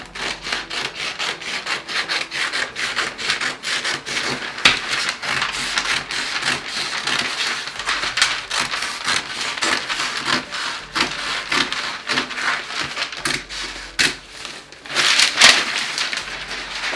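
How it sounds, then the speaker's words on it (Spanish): Steady scissors cutting through a paper sewing pattern for a bridal crinoline, a continuous close rasping and snipping texture that runs on without pause and with no talk. "voy a cortar el molde"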